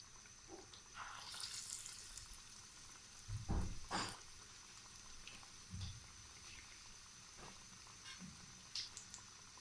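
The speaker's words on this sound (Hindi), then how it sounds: "ये हमने डीप फ्राई करने हैं इनको। ऑयल अच्छे से गर्म हो गया था।" Potato chicken donuts deep frying in hot oil give a steady, soft sizzle with faint bubbling, broken by a few louder splashy crackles as pieces drop in and shift about.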